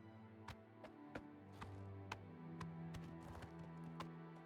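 Hooves of a horse in the Oblivion video game clop in an irregular rhythm of sharp, quiet taps over a low steady background, with no voices.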